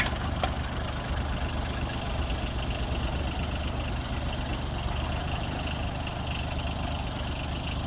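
A Branson 2500 tractor's engine runs at a steady low idle while a BH100 backhoe attachment digs, producing a constant rumble without any talking.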